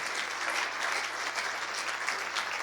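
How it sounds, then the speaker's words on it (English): A crowd at an in-person UK sales leader awards event applauds sponsors and speakers, a soft, even patter of clapping that holds steady and sounds somewhat distant. "Round of applause, please, to our sponsors and our speakers once more"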